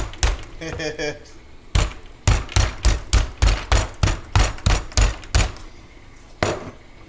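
A chuck roast is pounded with a tenderizing mallet in a home kitchen, giving about a dozen heavy, close, rhythmic thuds in a steady beat, with a voice briefly heard before them.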